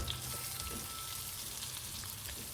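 Curry leaves wilt in hot oil with softened onions for a Kerala-style beef curry, giving a steady, fine sizzling crackle of moderate loudness with no talk.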